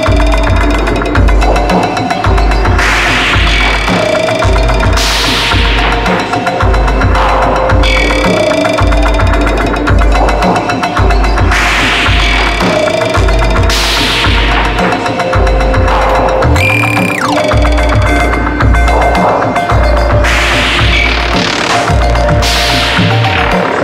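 An Elektron Octatrack and Machinedrum beat plays loud and continuous, with a thumping kick drum on a steady pulse under layered electronic percussion and bright noisy hits recurring every few seconds.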